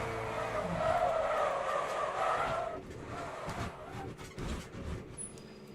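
Tires squeal and skid as a race car understeers into the wall in the Le Mans Ultimate racing game, with engine noise and scraping that fade into quieter rumbling.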